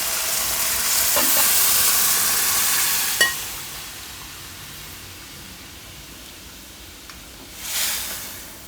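Boiled dal poured into a hot pan and starting to simmer, a soft steady sizzle with a brief splash and a clink, then low bubbling hiss that swells again at the end.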